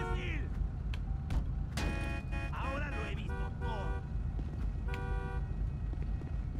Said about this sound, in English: You can all stop honking your horns